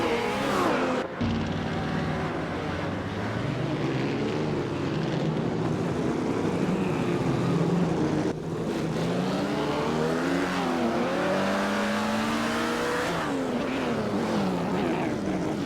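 Race cars from an AI racing video game, engine whines rising and falling continuously as several cars pass, with a brief dip in between; loud and steady, no talk.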